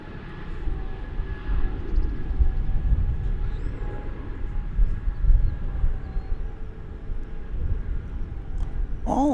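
Jet airliner noise at DFW Airport with an odd growling, Wookiee-like moan, a steady broadband engine roar throughout with a faint tonal whine, fairly loud and continuous.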